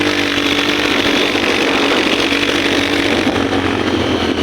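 A single motorcycle carrying riders on a road trip drones steadily at close range, its engine and wind noise forming a continuous rough roar with no talking.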